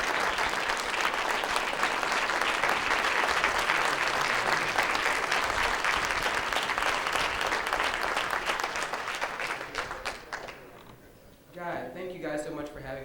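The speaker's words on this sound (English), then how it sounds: "Give him a hand clap as he comes." An audience at the Junior National Elite Awards applauds loudly and steadily for an award recipient, the clapping fading out near the end as a voice begins speaking.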